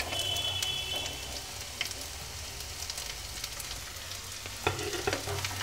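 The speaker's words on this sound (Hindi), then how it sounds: "और इसे हम प्याज के साथ भून लेंगे।" Bakla (broad beans) frying with golden onions in a pan, a steady soft sizzle with occasional stirring clatter, close and alone without talk.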